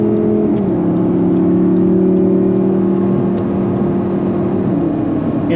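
Audi R8 cruising in sixth gear at about 90, heard from inside the cabin as a loud, steady engine drone with a low hum holding a constant pitch and a slight shift near the start.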